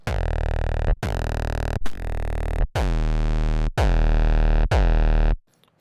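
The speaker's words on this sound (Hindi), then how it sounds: "काफ़ी सही डिस्टॉर्शन यूनिट है ये।" Six heavily distorted 808 bass notes played one after another through a Decapitator distortion unit switched between different modes, each note a dense buzzing sustain with slightly changing tone, with no other sound.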